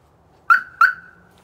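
Two quick chirps from a 2020 Boom Vader BD125-15 motorcycle alarm disarming by key fob, sharp electronic tones about a third of a second apart, close and clear with no talk.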